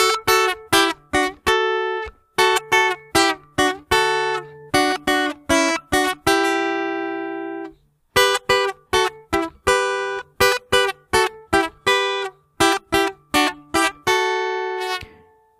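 A lead guitar plays a quick melodic requinto riff from the Christian song "Te vengo a decir" in rhythmic runs of plucked notes, some held longer, with a brief pause midway; clear and close.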